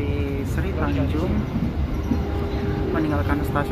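Sri Tanjung passenger train running at speed just past Probolinggo station in Indonesia, a steady rumbling clatter heard from on board under someone talking.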